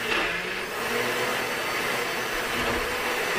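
A food processor whirs steadily while blending homemade hummus, a loud, even motor drone close by that runs without a break.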